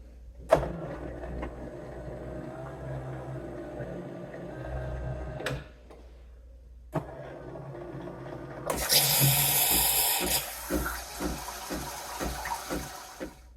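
An automatic ChefRobot espresso machine runs its milk-system cleaning cycle, with mechanical whirring and humming, a short pause, then a louder hiss of rushing water and steam with pulsing spurts, up close and without talk.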